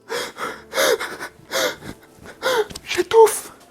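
A person imitates fearful difficulty breathing with a series of loud, ragged gasps and snorting inhales, about five rhythmic bursts, close and alone, with a high strained squeak near the end.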